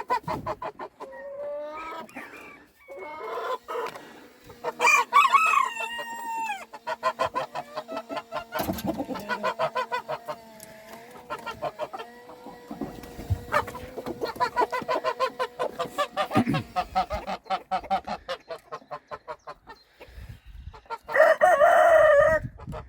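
Chickens cluck and a rooster crows repeatedly nearby, with busy overlapping calls throughout and a loud burst of crowing near the end.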